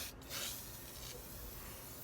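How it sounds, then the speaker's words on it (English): Rose copper spray paint hisses from an aerosol can onto a planter in short, close bursts, with a brief pause and a soft rubbing texture between sprays, no voices. "shake it really well. And then just spray everywhere."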